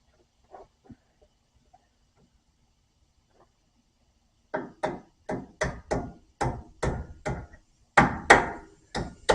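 A Ford being worked on, with a part hammered back into place: after a few faint knocks, a steady series of about a dozen sharp, loud metallic blows follows at an even rhythm, close by and without talk.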